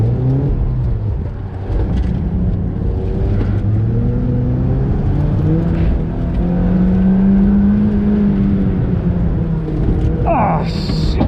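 A 2007 Mazda NC Miata on wide tires is driven hard on a track, its engine droning loudly and steadily as the pitch climbs through the gears, close and continuous, with a brief voice near the end.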